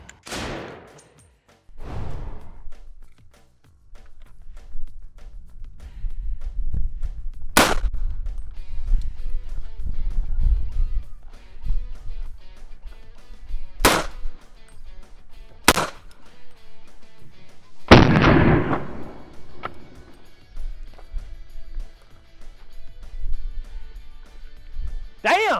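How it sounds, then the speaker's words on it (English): Three 300 Blackout rifle rounds fired point blank into level 3 body armor, each a loud, sharp crack well apart from the others, with talk and movement in between the shots. "300 blackout. Point blank, three bullets stacked on top of each other."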